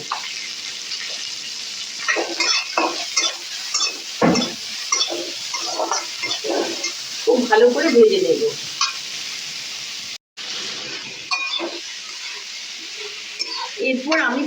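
Chopped onions with a little salt frying in a hot pan, a loud sizzle broken by repeated scraping stirs and clattering spoon strokes, with a brief cut near the end.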